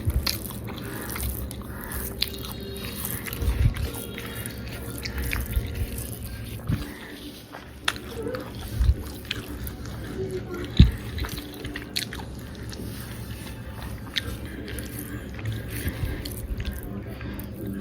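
Close, wet chewing and crunching of pickled garlic during a home-cooked Bengali meal, with irregular bites, soft smacks and small clicks over faint room noise and no talk.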